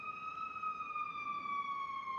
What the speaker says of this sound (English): It wouldn't be North Patrol without a siren.